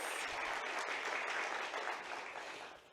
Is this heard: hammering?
no